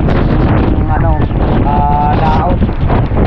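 Strong wind from Typhoon Uwan buffets the microphone at the seaside, a loud continuous roar with gusting surges, while voices talk faintly underneath.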